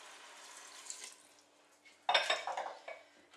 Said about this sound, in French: vous venez bien remuer le tout